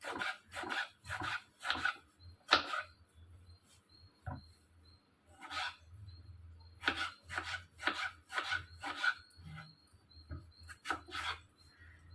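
Knife strokes chopping tomatoes and small onions on a board, quick bursts of several cuts with short pauses, close and fairly quiet.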